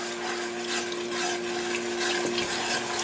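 Spices being stirred and cooked into a paste in a pan for homemade butter chicken, giving a steady close sizzle with soft scraping of the spoon throughout, no talking.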